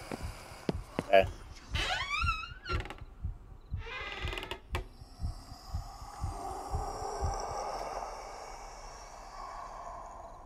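Rhythmic low thumping heartbeat in the horror video game Paranormal Cleanup, steady pulses running under game sounds and voices talking.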